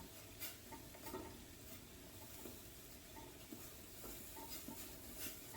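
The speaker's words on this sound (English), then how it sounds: "And like I said, we have to stir." Grits being stirred into boiling water in a pot on the stove: steady bubbling hiss with soft, rhythmic scraping and swishing strokes, close and fairly quiet.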